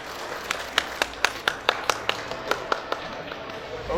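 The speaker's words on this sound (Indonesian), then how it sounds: "Tepuk tangan." Scattered hand claps at the Boyong Natapraja ceremony in Nganjuk, a dozen or so distinct sharp claps in a loose, fairly steady rhythm rather than full applause, heard at moderate distance.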